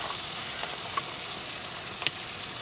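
Chopped carrot, cauliflower, beans and green peas tipped into a hot oil pan, giving a steady close sizzle and frying hiss with a couple of brief clatters as they land, no talk.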